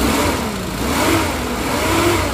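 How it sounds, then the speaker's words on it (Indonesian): A 1993 Suzuki Katana GX engine revs loudly nearby, rising and falling in pitch over a couple of seconds with a steady mechanical roar. "Suaranya mesin ya masih halus banget ya."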